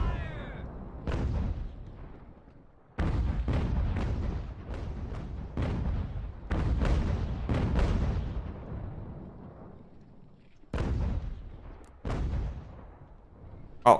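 Cannon and musket volleys boom in the strategy game Ultimate General: American Revolution, with a series of heavy blasts, each trailing into a rumbling decay, spaced unevenly across the battle.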